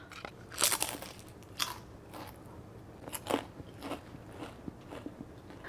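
Crisp bites and crunches on oven-baked Korean seaweed chips (gimbugak) made without frying oil, several close, sharp crackling bites followed by quieter chewing crunches.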